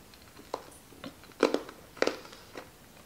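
Several crisp crunches from biting into a brittle honey saffron candy with pistachio and almond, close and sharp, spaced about half a second apart with no talking.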